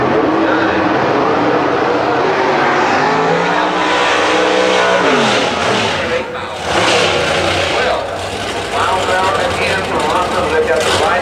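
A Pro Stock drag racing car at Houston Raceway Park roars loudly through its run, with the engine pitch sweeping through gear changes while an announcer talks over it.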